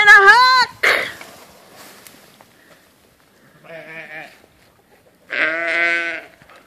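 A sheep gives several separate bleats, close and fairly loud, with quiet gaps between them and a brief rough throaty sound near the start.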